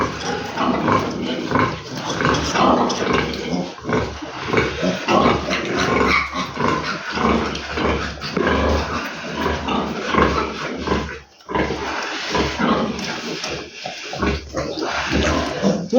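Piglets grunting and squealing steadily while suckling at a nursing sow in a farm pen, a dense, continuous close-up chorus of snuffling grunts with no talk.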